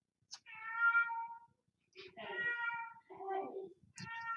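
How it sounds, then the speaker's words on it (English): A pet cat meows several times close by, with drawn-out, wavering cries separated by short silences. "That's my kitty Sophie."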